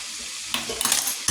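Chicken frying in hot oil in a home kitchen, a steady hiss of sizzling with louder bursts of crackle and spatter as pieces are moved, close and fairly loud with no talking.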